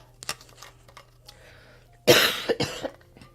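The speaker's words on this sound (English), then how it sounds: "I'm sorry, I'm coughing, y'all." A quiet stretch of faint rustling and clicks, then a loud, harsh cough up close followed by a couple of shorter coughs.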